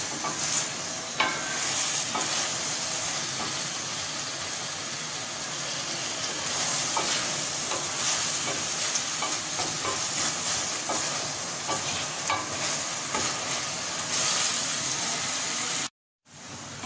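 Mutton pieces fry in a pan for karahi with a steady, dense sizzle, with occasional stirring scrapes and no talking.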